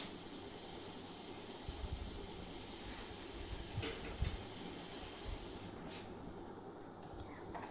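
A gas stove flame burns under a cooking pot, a faint, steady hissing roar that continues throughout with a few soft clicks and knocks, no speech.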